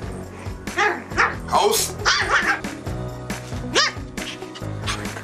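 A young pet dog barks and yips excitedly in a home, the sharp close barks overlapping with a person shouting commands at it.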